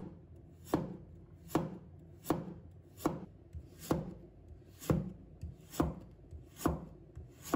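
A knife slices through a carrot onto a cutting board in slow, even strokes, each a crisp close thud, about nine cuts spaced under a second apart with no talk.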